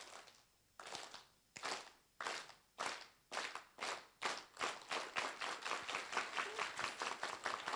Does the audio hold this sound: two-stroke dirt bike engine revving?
no